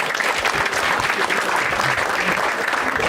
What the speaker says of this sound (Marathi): एकदा या दोघांसाठी टाळ्या वाजवा